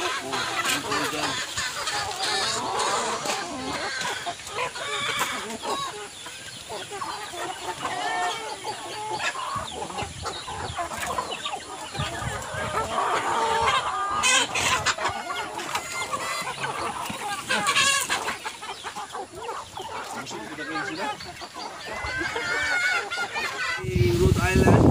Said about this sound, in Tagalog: Rhode Island na mga manok.